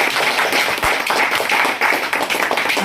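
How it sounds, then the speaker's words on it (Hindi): Seminar audience in Virar, Mumbai clapping loudly: a close, dense burst of many hands striking together, sustained and fairly even throughout with no talk over it. "एक बार अपने लिए जोरदार ताली बजाएं।"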